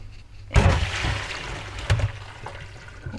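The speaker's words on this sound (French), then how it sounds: "On égoutte bien et on rince, on va rincer dans l'eau froide" Cooked spinach is drained and rinsed under cold running water, a sudden gush of pouring water starting about half a second in, with a second louder splash near two seconds, then steady flow.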